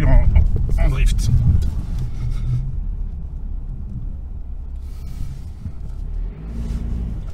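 Skoda Karoq Sportline drifting sideways on a snowy course in extreme cold (-18°C), with a steady low engine and road rumble, louder at the start and then holding level for the rest.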